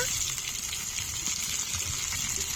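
Green peas sizzling and frying in oil in a pan for a kachuri filling, a steady close hiss that holds for the whole moment without letting up.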